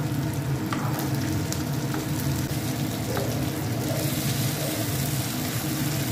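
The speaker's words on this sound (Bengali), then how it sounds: "তো সাইডগুলো আমি উল্টিয়ে সাইড করে দিব, যাতে সাইডগুলো ভালো করে ভাজা হয়ে যায়।" Fish pieces shallow-frying in a pan for a beach-style fish fry, with a constant crackling sizzle and occasional spatula scrapes and clinks standing out clearly at close range.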